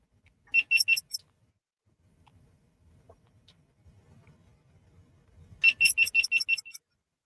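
A GoPro camera gives two bursts of rapid, sharp, high-pitched electronic beeps, about four at the start and seven near the end, with a quiet room hum in between.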